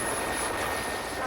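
A helicopter carrying an injured soldier to Medica hospital in Ranchi drones loud and steady throughout, a dense continuous rotor and engine roar with no break and no voices.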